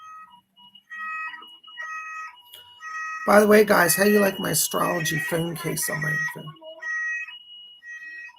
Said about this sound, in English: That's an emergency alarm.